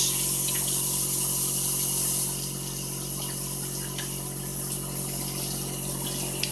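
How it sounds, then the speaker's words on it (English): Water runs steadily from a tap while a makeup brush is rinsed on the rinse side of a Sigma Spa brush cleaning glove, a continuous close, even splashing rush that eases slightly partway through. "So now I'm gonna go to the rinse side and just rinse"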